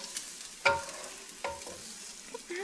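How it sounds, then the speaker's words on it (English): Garlic frying in oil in a pan while being stirred, a gentle sizzle under three or four scraping strokes of the spoon, close and fairly quiet. "we're stirring the garlic till it's golden brown before we put the onions in"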